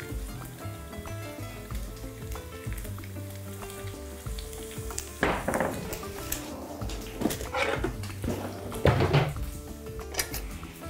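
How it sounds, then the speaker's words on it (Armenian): Onion fries in vegetable oil in a pan, a low sizzle under scattered clinks and scrapes of a utensil against the pan, with louder stirring bursts partway through. "Սոխը կտապակենք բուսայուղով։"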